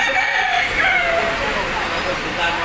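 A rooster crows in the background at a Philtranco bus terminal in the Philippines, heard amid continuous crowd chatter and general station noise.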